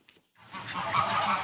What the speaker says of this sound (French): Un havre de paix parfois troublé par les vocalises des canards, dont Christophe Lesbats profite chaque jour